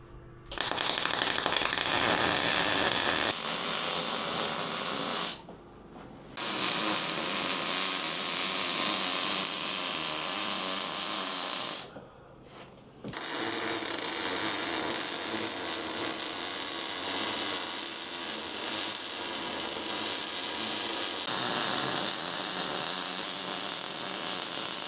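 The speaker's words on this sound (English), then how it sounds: "what we're doing is welding." MIG welding on a new ship hull: a loud, steady crackling buzz that runs in long continuous beads, broken by two short pauses where the arc stops and restarts.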